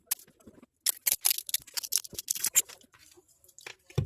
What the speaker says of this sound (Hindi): तो इसको हम टेप कर लेते हैं।